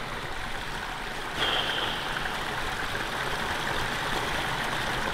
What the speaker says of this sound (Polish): Przedzieram się wzdłuż tego potoku w dół